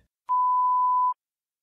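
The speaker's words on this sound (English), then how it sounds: "When you hear a beep" A single steady electronic beep in an English listening exam, one clean pure tone lasting under a second and standing alone in silence.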